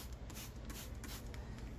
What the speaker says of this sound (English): you just take your spray bottle, you lightly mist it